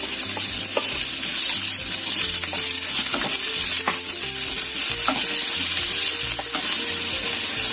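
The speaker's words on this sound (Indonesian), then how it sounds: "Kita masukkan dulu ini bawang putih, bawang merah, kita tumis sampai matang." Garlic and shallots sauté in hot oil with a loud, continuous sizzle close by, and repeated stirring scrapes and taps run throughout.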